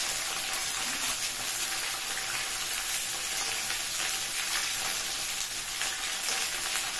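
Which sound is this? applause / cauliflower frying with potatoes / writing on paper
cauliflower frying with potatoes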